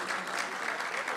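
Audience applause in a hall during an Urdu poetry mushaira at Aiwan-e-Ghalib in New Delhi, a brief, dense and even wash of many hands clapping at once.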